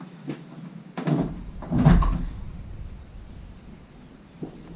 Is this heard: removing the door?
yes